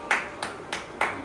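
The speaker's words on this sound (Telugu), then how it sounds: "చప్పట్లు కొట్టండి." Four evenly spaced sharp claps at a marriage anniversary celebration, close and distinct, with no voices over them.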